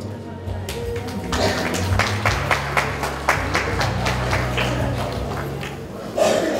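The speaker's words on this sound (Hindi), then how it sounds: "चले एक और तालियों से हम दुल्हन की मामी रेणु जी का स्वागत।" Wedding guests applauding at a reception, a steady run of sharp claps that builds and continues under a faint voice, with a loud burst near the end.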